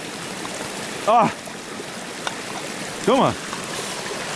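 A forest stream rushes steadily as a continuous wash of water noise, while a nearby voice speaks briefly twice in German over the flow.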